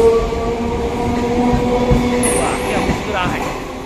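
Train noise on board a passenger train in India, a steady rumble and rattle of the carriages running throughout, with people talking faintly in the background.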